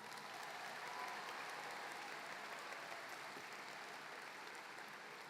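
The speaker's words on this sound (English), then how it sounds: "Big round of applause for all of you." A crowd applauding at a high school commencement ceremony, with dense, steady clapping that holds evenly and fairly quietly for several seconds.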